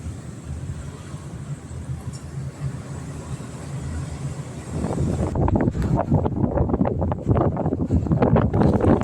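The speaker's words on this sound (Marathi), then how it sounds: "वाऱ्याचा कसला सुसाटा आवाज येतोय एकदम घोंगावणारा वारा आहे" Strong wind roars and buffets the microphone, growing louder and gustier partway through with no voices.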